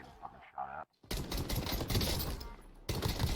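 Rapid gunfire rattles in Call of Duty Warzone, a dense burst of fast shots heard close and loud after a short voice, continuing with a brief break before resuming.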